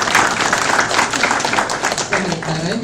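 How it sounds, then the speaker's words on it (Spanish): An audience at a keynote lecture applauds for Katherine, loud, dense clapping throughout, with a voice speaking over it near the end. "fuerte el aplauso para Katherine, por favor."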